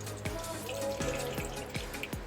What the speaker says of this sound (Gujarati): ત્યાર પછી તેના ઉપર થોડું ઠંડુ પાણી રેડી દઈશું